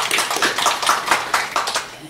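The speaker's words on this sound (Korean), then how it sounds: "박수 한번 쳐주실까요?" A church congregation claps together in a short burst of applause, a dense patter of hand claps lasting about two seconds, close and fairly loud.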